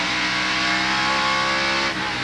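Loud, steady engine roar fills an in-car view from Ernie Irvan's stock car during the 1991 NASCAR Winston Cup Bud 500 at Bristol, a continuous high-revving drone with a slight dip near the end.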